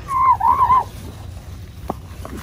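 A single bird gives a loud, wavering call at the start, followed by quieter scratching and a few faint knocks in the background.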